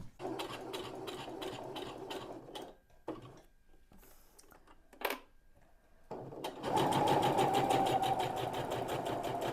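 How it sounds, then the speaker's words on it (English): A sewing machine stitches along a fabric lanyard in close, rapid mechanical bursts, stopping for a few seconds with faint handling noises, then running again faster and louder. "Make sure you're not twisted, and go and sew along there."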